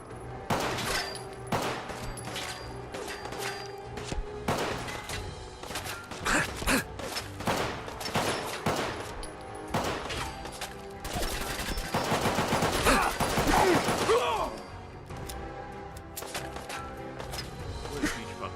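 Slowed-down gunfire in Fallout 4 arrives as a string of deep, stretched bursts in irregular rapid volleys, loud and close, with a voice talking faintly beneath at times.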